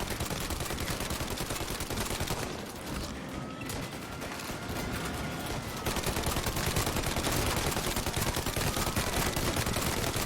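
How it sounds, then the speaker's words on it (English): A Tommy gun in the video game Mafia fires in long, dense automatic bursts, loud and close, with a brief lull before the firing swells even harder. "Ah, the Tommy gun. What a marvelous weapon."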